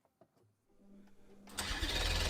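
Koenigsegg supercar engine on a test rig, quiet clicks and a low starting whir building into a loud, steady roar that swells sharply about two-thirds through.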